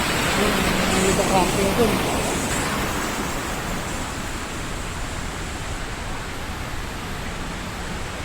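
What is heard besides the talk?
mini waterfall at Taytay Falls, Majayjay, Laguna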